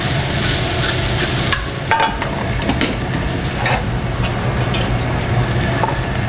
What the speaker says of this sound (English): Just pull it apart with our tongs.